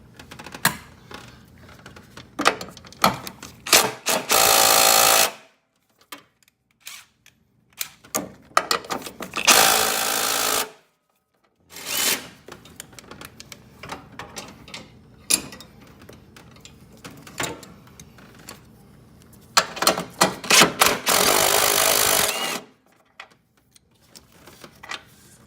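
Air impact wrench spinning bolts off during an alternator replacement on a 2006 Scion, heard as several loud sustained bursts separated by short rattling clicks and handling noises, close by with no talk.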